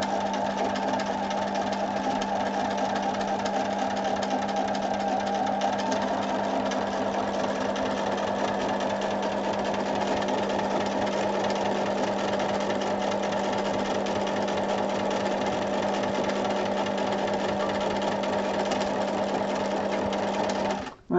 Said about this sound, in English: I'm going to go around the outline again so that I've got a nice double